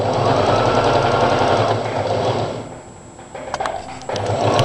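A sewing machine stitching a front-open Chinese collar jacket tunic runs in a steady, loud whir near the interfacing, slows and briefly stops, then starts again with a few clicks and resumes running.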